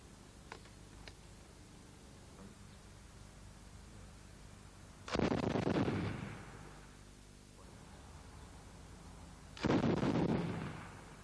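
Two loud rifle shots ring out at military marksmanship practice, each a sharp report with a long rolling echo, spaced several seconds apart over a quiet outdoor hush.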